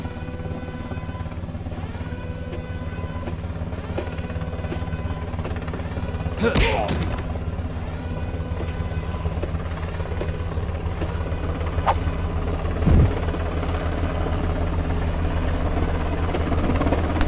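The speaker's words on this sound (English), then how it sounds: "Yes, that's a helicopter." A helicopter in an animated fan film, heard as a steady, loud droning rotor hum that runs throughout, broken by two brief heavy thuds partway through.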